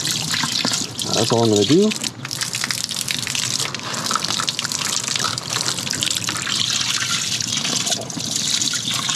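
Water gushing and splashing steadily into a low-tech Walstad aquarium tank over a thick sand cap, a loud continuous pour with a person talking briefly near the start.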